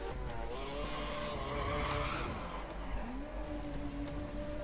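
An F1 race car in a racing video game spinning out with a high rear wing setting, engine whining and tires squealing and skidding steadily, loud and close throughout.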